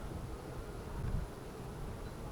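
A steady low buzzing of many honeybees at a hive in spring hums continuously, soft and close, with no voices.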